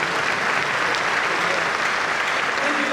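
Loud, even applause fills a university anniversary ceremony hall, a continuous wash of many hands clapping with no break.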